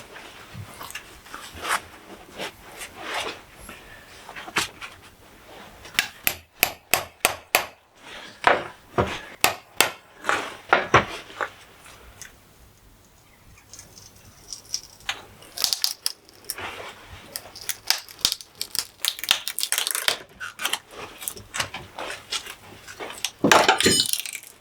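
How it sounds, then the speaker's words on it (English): Blunt tools breaking and tearing deadwood fibers on a bonsai tree, irregular sharp cracks and snaps in clusters with scraping between them, close and fairly loud, no speech. "I'm doing this with all very blunt tools because I want to break and pull fibers"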